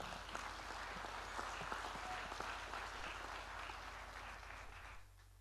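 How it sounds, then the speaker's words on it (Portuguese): Applause fills a solemn assembly session honouring the 85th anniversary of the Assembleia de Deus, sustained clapping from a large audience in a hall that fades away near the end. "Merece uma salva de palmas."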